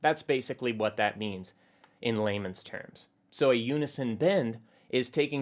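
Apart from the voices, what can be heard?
No everyday noise stands out behind the speech.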